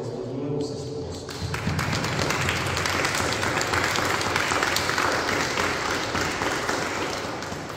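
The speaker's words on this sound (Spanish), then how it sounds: "Les brindamos un fuerte aplauso a estos nuevos esposos." Loud, sustained applause fills a church as a congregation claps for newlyweds at their wedding, a dense wash of hand claps swelling after the first second and holding steady to the end.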